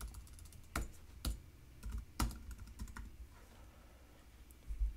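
Typing on a computer keyboard to name a layer, light scattered key clicks with a few sharper isolated taps, close and quiet with no talking.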